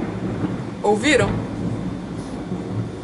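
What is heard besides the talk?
thunder during a rainstorm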